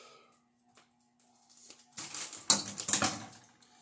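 Instant noodle packets being cut open, a short burst of crinkly plastic tearing and rustling that starts after a quiet lead-in and lasts about two seconds, close by.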